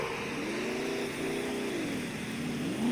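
A truck engine in the survival game SCUM runs steadily with a rising and falling drone as the vehicle drives, holding close and fairly constant and lifting in pitch near the end.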